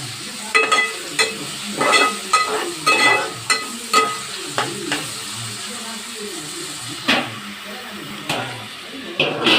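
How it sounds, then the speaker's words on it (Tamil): Green chillies and tomato being sautéed in a pan for a hotel-style kuska and brinjal thokku, with a steady sizzle broken by repeated clanking stirs and scrapes close by, and no talk. "ரெண்டு பச்சை மிளகாய் போட்டு நல்லா வதக்கு"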